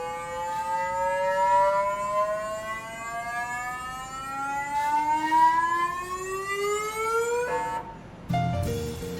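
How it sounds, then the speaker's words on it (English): A steady whining tone with rich harmonics slowly rising in pitch as a lab instrument is driven through resonance frequencies, ending in a brief rattling clunk and a lower hum. "we had to program it to vibrate at various frequencies"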